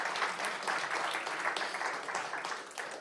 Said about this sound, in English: So let's give another round of applause for them.